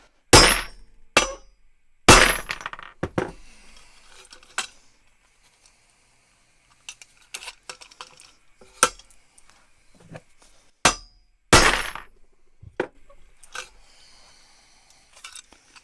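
A homemade C-frame riveter setting rivets on a braced workbench gives a handful of sharp, loud metallic strikes, spaced irregularly with quiet gaps and faint clinks between them.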